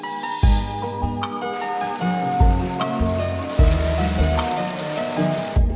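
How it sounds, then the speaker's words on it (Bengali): Onion paste frying in oil with cinnamon sticks, bay leaves and black cardamom for a Bengali chicken roast, a steady soft sizzle running throughout beneath louder background music. "আবার কিছুক্ষণ এগুলোকে ভেজে নিচ্ছি।"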